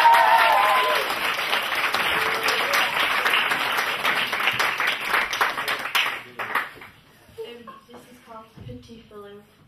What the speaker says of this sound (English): So give them a good clap and lots of fun